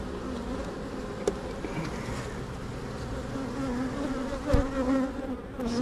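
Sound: honey bees buzzing on a hive frame

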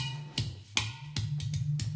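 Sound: udu drum played soloed

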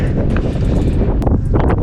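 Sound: strong wind blowing

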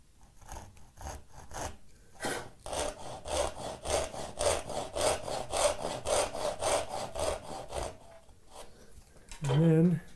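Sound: hand saw cutting a mahogany board

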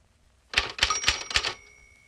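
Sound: typing on a manual typewriter

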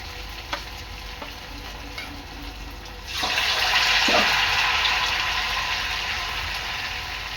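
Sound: batata vada dropped into hot oil, frying

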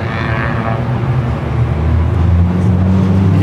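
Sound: cars driving past at Daikoku parking area, Tokyo

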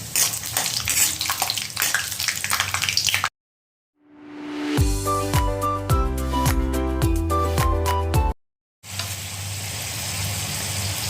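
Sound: peanuts frying in hot oil

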